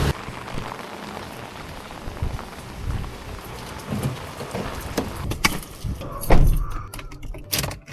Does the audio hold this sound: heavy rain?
yes